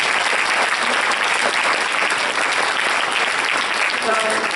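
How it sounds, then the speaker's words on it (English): Audience applause for debate contestants at a raft debate, a sustained, even wash of clapping from a sizeable crowd holding steady from start to finish. "a good round of applause for all of our contestants"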